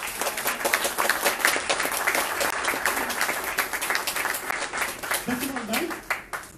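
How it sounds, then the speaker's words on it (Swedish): Audience applause welcoming politicians onto the stage at an Almedalen panel event in Sweden, sustained dense clapping from a crowd that carries throughout, with a voice speaking over it near the end. "Välkomna upp med en applåd."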